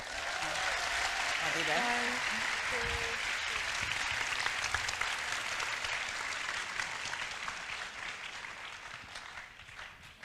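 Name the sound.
audience applause at a symposium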